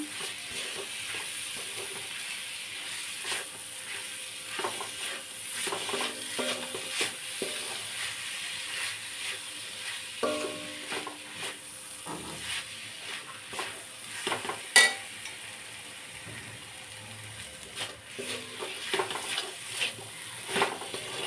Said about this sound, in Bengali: তো দেখো এখন এর মধ্যে নারকেলগুলো দিয়ে দিচ্ছি দিয়ে ভালো করে এটার মধ্যে মেশাবো